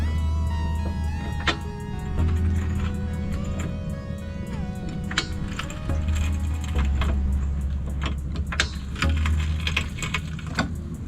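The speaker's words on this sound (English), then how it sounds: "Then you just want to jack it up." A car jack is raised under a 2017 Dodge Journey, producing a continuous close mechanical whir with rapid ratcheting ticks and occasional sharper clicks.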